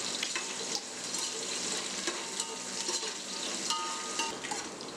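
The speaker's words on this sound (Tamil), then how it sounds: "அடுத்து பெரிய வெங்காயம் போட்டு கொஞ்சம் நல்லா வதக்கிடலாம்" Sliced big onions sauté in a pan for mushroom biryani, giving a steady broadband sizzle with faint scraping and stirring noises throughout, alone and without talk.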